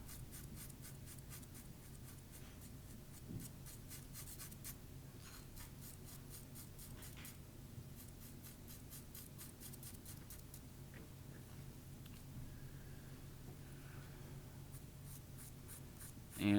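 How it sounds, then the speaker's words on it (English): Hard HB pencil shading on hand-toned paper, a steady run of dry, rasping graphite strokes scraping back and forth close up, with no talk over them. "I'm going to go back to my hard pencil and back to my first shading direction and just unify that area"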